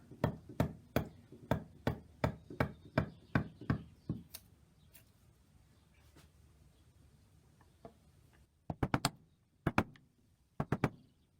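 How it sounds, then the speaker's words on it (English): Sharp, rhythmic chisel strikes cutting into the wood of a Fender Stratocaster guitar body, a fast run of about a dozen close, loud knocks, then a quiet pause before a few scattered sets of blows. "I'll just chisel away here"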